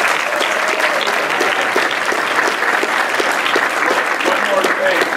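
A cinema audience claps loudly and continuously in thick, even applause, close and filling the room throughout.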